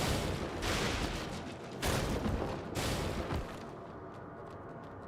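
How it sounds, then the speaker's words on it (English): Explosions in the video game Code Vein go off in a few heavy, crackling bursts of roughly a second each, loud and close, then fade to a quieter rumble. "I don't know if those explosions hurt."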